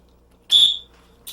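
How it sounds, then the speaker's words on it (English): A single short, shrill dog-training whistle blast cuts through near silence, with the start of a second blast at the very end. "blow the whistle"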